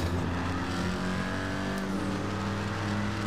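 Steady car engine drone from GTA 5 Online driving, with a shifting pitch as the vehicle accelerates, continuous and fairly loud throughout with no voices.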